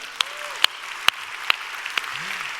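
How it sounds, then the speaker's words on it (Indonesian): A church congregation applauds during a sermon: a soft, steady wash of clapping with a few sharper individual claps standing out. "Tepuk tangannya bisa bintang 5 gitu enggak?"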